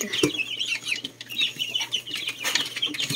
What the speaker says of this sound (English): So this is our baby chicken.